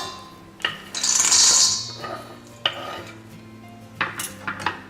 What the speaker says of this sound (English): Now we have the roughly chopped almonds, we're just going to empty them into the bowl